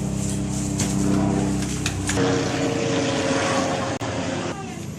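A propeller airplane drones steadily overhead, loud and sustained across the whole stretch, while a rural morning scene with cats being fed goes on around it; brief voices are faintly present.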